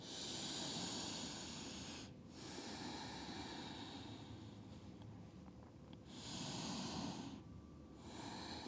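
Slow, deep belly breaths during a hip-opening vinyasa yoga flow, soft airy inhales and exhales heard close and quietly in long, even cycles with short pauses between them.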